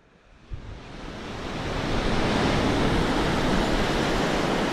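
Ocean surf at Maracas Beach, Trinidad, builds into a loud, continuous broadband wash of breaking waves and rushing water, rising over the first two seconds, with a brief thump early on.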